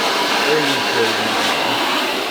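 A hair dryer blow-drying a pompadour haircut at a barber, a loud, steady, close whooshing roar with a faint whine, continuous throughout without breaks.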